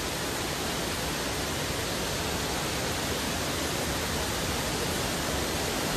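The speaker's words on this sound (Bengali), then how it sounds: "একবার জলের আওয়াজ।" Pemling Waterfall in offbeat North Bengal pours with a constant, loud, dense roar of rushing water that stays unbroken from start to finish, with no voices.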